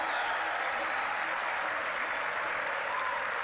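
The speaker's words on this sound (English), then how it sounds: "Give them a big round of applause," Steady, dense applause from an audience at an awards ceremony, sustained and even throughout with no break or talk on top.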